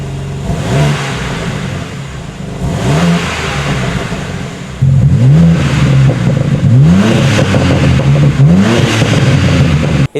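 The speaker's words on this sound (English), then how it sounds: "that lets out the tremendous sound that this car does provide" A facelifted BMW M2 engine revs hard several times, the exhaust roaring up and dropping back between blips, loud and close with no talking.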